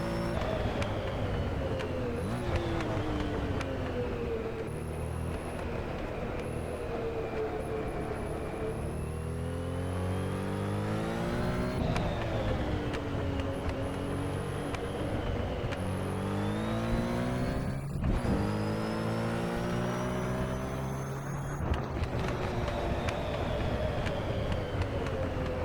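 A Porsche 917K flat-12 engine in the racing game Assetto Corsa revs hard through repeated gear changes, each climb in pitch broken by a shift, loud and continuous with no talk.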